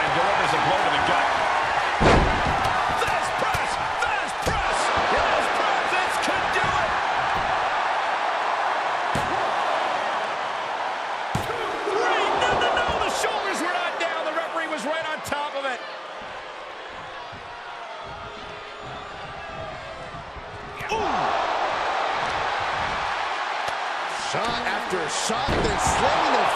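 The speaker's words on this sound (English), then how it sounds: "Shot and then slamming their face down." Wrestling slams, impacts and body blows from the WWE 2K23 video game in an Extreme Rules match between John Cena and The Great Khali, with sharp repeated thuds over steady crowd noise and commentary talk.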